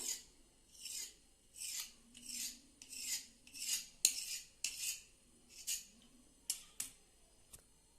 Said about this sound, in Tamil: நான் வந்து இந்த கத்தியில் சின்ன சின்னதாக இப்படி கோடு போட்டு வைக்கிறேன்